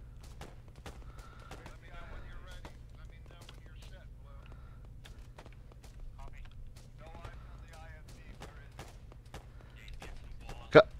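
Covering gunfire in a military shooter video game, a steady stream of sharp shots rattling over a low rumbling engine drone, with voices talking underneath and one louder blast near the end.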